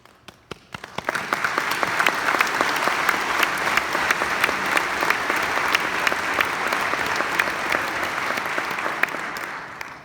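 Sustained applause from a large congregation at a Mass in a chapel, steady and loud for about ten seconds after a brief start, with no voices standing out.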